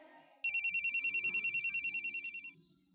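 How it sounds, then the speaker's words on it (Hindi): A phone ringtone trills in rapid, evenly pulsed electronic beeps for about two seconds, clear and close, with faint background murmur before and after. "ये तो असद का फोन है।"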